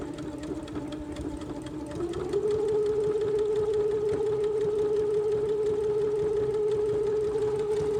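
A sewing machine stitching a tight zigzag along the edge of a zipper pouch whirs quietly, then jumps to a faster, steady running hum that holds without a break to the end.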